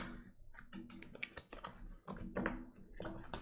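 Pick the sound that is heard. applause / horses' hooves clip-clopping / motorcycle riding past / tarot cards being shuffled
tarot cards being shuffled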